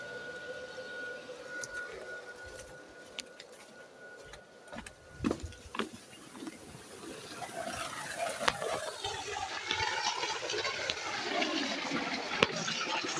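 Water gushing under pressure from a pump driven by a VFD inverter, a steady broad rush that swells louder partway through, with scattered clanks and knocks over it.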